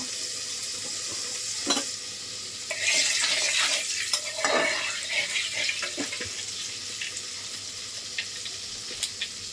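Cumin seeds crackle and sizzle in hot oil in a wok as tempering for a meat dish, a steady bright frying hiss with a louder burst of spitting partway through, close up and with no talk.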